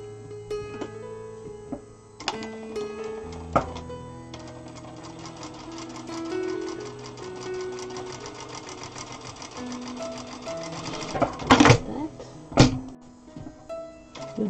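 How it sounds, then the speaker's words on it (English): A Zoje ZJ9703AR-D4J industrial sewing machine stitches fabric in rapid mechanical bursts, starting and stopping several times with clunks and thumps between runs, close and clear without speech. "I fold it twice and then I sew it down."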